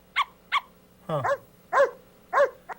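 A dog barking sound effect played from a link on a web page: a run of about six short, crisp barks, one with a rougher growl-like onset, spaced roughly evenly and heard alone.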